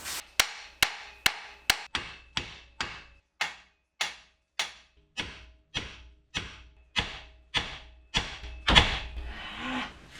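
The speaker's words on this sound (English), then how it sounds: "let's tap these out. We need our ball head hammer" Sharp metallic hammer strikes from a ball head hammer tapping strut bolts loose on a 2014 Ford F150, about twenty evenly spaced blows, quick at first and then slower and steady, ringing briefly, with a heavier scraping knock near the end.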